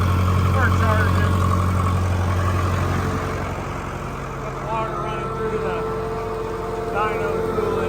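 An International Harvester 1206, Case 1370 or Oliver 770 tractor engine running on a dyno at about 1350 RPM, a loud steady low rumble throughout, with people talking over it.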